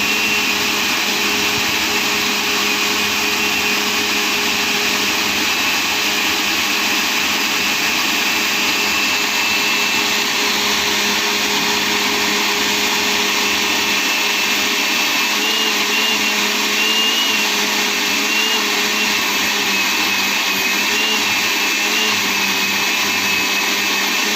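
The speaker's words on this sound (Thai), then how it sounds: "ใส่แล้วแล้วก็ปั่น ปั่นให้จนละเอียดเลยครับ" Blender whirs continuously, puréeing pumpkin with other ingredients into a smooth salad dressing, a loud steady motor drone with a high whine and slight pitch wavering, no talk.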